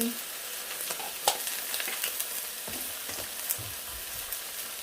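Thai fried mussels (hoi tod) frying in a pan, a steady hiss and crackle of hot oil with occasional scraping and stirring of a utensil, close and continuous with no talking.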